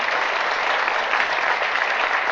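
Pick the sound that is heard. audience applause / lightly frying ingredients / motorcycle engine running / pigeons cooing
audience applause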